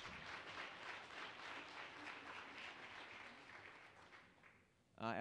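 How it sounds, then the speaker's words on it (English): Sustained applause from a crowd at a council meeting, tapering off near the end as a voice begins to speak. "Let's give them a round of applause."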